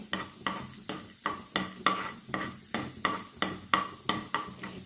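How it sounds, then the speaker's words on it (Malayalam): Urad dal roasting in hot oil for lemon rice, with a spoon scraping the pan in a steady rhythm of about a dozen close strokes over a soft, continuous sizzle. "ഉഴുന്ന് അതവിടെ കിടന്നൊന്ന് മൂത്ത് വരട്ടെ"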